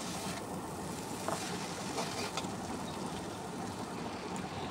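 Chicken skin and potato pieces fry in a pan as they are stirred, making a continuous close sizzle with faint scrapes mixed into the hiss and no talking.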